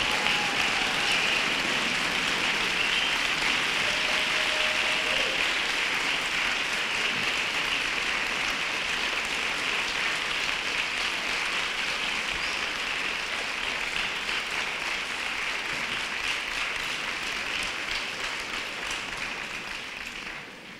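Audience at a Goldsmiths, University of London graduation ceremony applauding, a dense, sustained wash of clapping from a large hall that carries on for about twenty seconds, with a faint voice briefly over it, before slowly tapering off.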